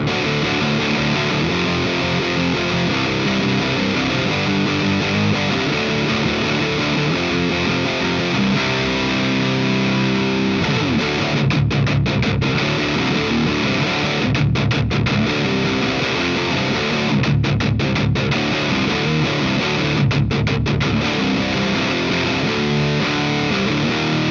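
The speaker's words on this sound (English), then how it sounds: "you can sort of tell the distortion is coming from a pedal rather than from an amplifier" Distorted electric guitar played through a distortion pedal rather than amp distortion plays a crunchy, compressed riff with steady chords throughout, loud and continuous with no voices.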